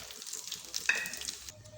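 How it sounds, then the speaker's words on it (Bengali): Bay leaf, black cumin and dried chilli tempering in hot oil left from frying pointed gourd crackle and sizzle softly in short bursts, fading as the spices settle. "পটল ভাজা তেলে ফোড়ন দিয়ে দিচ্ছি তেজপাতা,"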